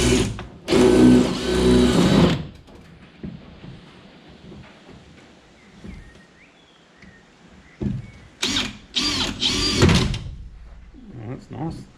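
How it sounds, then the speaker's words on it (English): Power drill bores out pop rivets on a fishing boat hull, two loud whirring bursts near the start and end, with quieter handling noise and scraping between. "So we'll just drill out these pop rivets."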